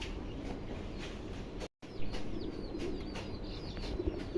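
Tedi pigeons coo softly in a pigeon farm loft, low murmuring calls that carry on steadily, with a faint chirp here and there and a brief dropout midway.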